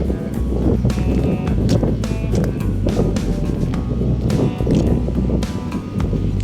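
Strong wind at Manila Bay's Dolomite Beach buffets the microphone in loud, rumbling gusts, with sharp thumps and a constant low roar.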